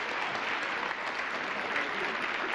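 Studio audience applause on a German TV game show, a steady, dense wash of clapping from a full room that holds at an even level throughout without breaks.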